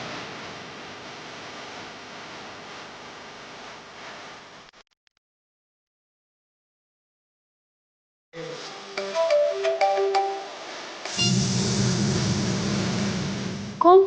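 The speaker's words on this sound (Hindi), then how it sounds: "कौन फोन कर रहा है?" A phone ringtone plays a short tonal melody after a silent gap, followed by louder, noisier background sound.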